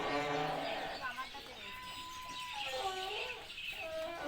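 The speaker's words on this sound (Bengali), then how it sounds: "এখন মুরগি" Village chickens clucking at close range in short, irregular calls, mixed with other farmyard sounds while a person talks.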